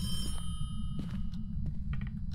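Telephone ringing inside a haunted house in the horror game Phasmophobia, a few repeated bell-like bursts over a steady low rumble of game ambience.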